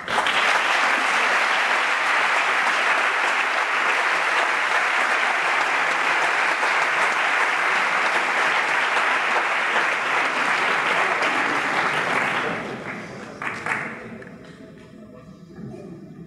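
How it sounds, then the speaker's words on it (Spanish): Sustained, loud audience applause at an awards gala in Barcelona, a dense wash of clapping holding steady for about twelve seconds before thinning out and fading to scattered claps. "recibamos con un fuerte aplauso a Francisco Monteverde"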